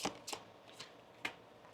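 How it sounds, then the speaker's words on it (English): Tarot cards shuffled by hand in a few quick, soft riffling bursts with pauses between them, close and quiet with no talking. "One more shuffle here."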